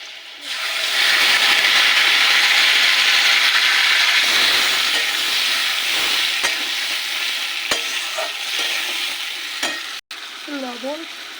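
Spices for a Bengali bata fish curry frying and stirred in a hot pan with potatoes, ginger, tomato and green chilli, a loud steady sizzle broken by scraping stirs, ending in a brief dip and a few faint voice sounds.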